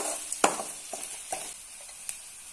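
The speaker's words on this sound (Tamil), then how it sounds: "சேர்த்துட்டு நல்லா கலந்து விட்டுருங்க." Chopped curry leaves stirred into a sizzling dish in a pan: a spoon scrapes and clacks in irregular strokes over a light, steady frying hiss, close and fairly loud, no talking.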